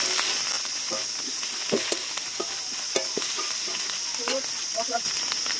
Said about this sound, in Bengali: মনে মশলাটা বেশ ভাজা ভাজা হয়ে গেছে